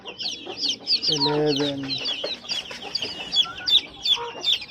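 Backyard chickens cluck and squawk close by in a dense, overlapping chorus of short calls, while a voice counts aloud once partway through.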